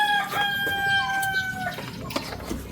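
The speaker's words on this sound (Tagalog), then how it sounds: "Tignan mo, may manok pa." A rooster crows in the Philippines, one long cock-a-doodle-doo followed by a few clucks, fairly close and clear with no talking.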